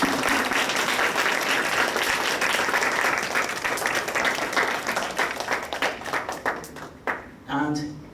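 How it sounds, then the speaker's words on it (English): An audience applauds a professor at a special lecture, a dense, steady wash of clapping that thins into scattered claps near the end. "Please clap our hands for her."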